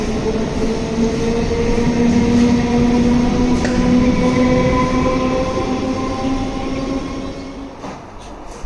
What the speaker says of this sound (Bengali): টিকিট কেটে উঠে পড়ি ট্রেনে